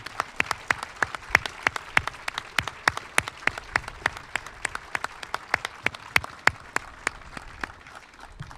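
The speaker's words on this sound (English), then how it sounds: "please join me in a rousing round of applause for these folks" A round of applause at a military medical command awards ceremony, heard as steady, distinct claps at a moderate distance, sharp and evenly spaced throughout.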